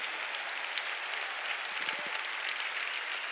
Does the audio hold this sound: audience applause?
yes